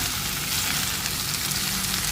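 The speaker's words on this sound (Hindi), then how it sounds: "अब आलू मिक्स करना है" Fried potatoes stirred into keema in a pan on the stove, giving a steady close sizzle and frying hiss that runs evenly throughout with no talking.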